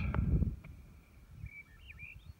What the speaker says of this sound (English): the only thing I can hear is the birds, occasional fly, and the wind.